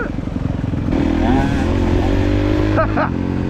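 A KTM 125 dirt bike engine runs loud and close, its buzzing two-stroke note rising as it revs and then dropping back near the end, with a voice heard faintly beneath.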